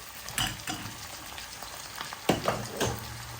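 Chicken pieces hit a hot pan of browned garlic and softened onion for a home-style chicken curry, raising loud crackling sizzles with a few bursts of stirring, no talk over the steady frying hiss.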